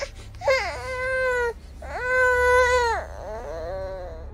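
A baby cries in two drawn-out wails followed by a shorter whimpering cry, close and clear with no talk over it.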